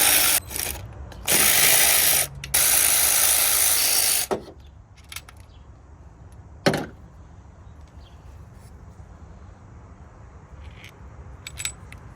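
Loose metallic clinks, ratcheting and brief bursts of bolts and tools rattle as the throttle body is taken off a Mk1 VW Rabbit engine, loud at first, then sparse scattered clicks and taps in a quiet garage.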